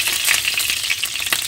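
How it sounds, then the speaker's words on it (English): Two tablespoons of garlic-infused olive oil sizzling in a hot pan, a close, steady crackling hiss with small pops scattered through it and no talk. "you just take 2 tablespoons of that oil and let it sizzle there"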